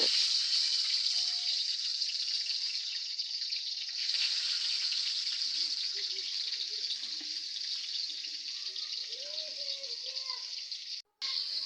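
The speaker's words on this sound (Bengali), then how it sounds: "প্রথমে কড়াইয়ে তেল দিয়ে এর মধ্যে কেচে রাখা ডিমগুলো দিয়ে দেব" Boiled eggs frying in oil in a wok make a continuous, hissing sizzle that stays loud and even for the whole stretch, with faint crackles beneath and a brief cut near the end.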